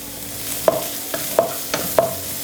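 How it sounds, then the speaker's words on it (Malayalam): Chopped ginger, garlic, onion and green chilli frying in a pan, soft background sizzle broken by four sharp stirring knocks at a regular pace, close and fairly loud, no talk. "ഇഞ്ചി നല്ലതായിട്ട് ചോപ്പ് ചെയ്തു, വെളുത്തുള്ളി ചോപ്പ് ചെയ്തു, അതുപോലെ സവോള, പച്ചമുളക് ഇട്ട് കൊടുക്കുക"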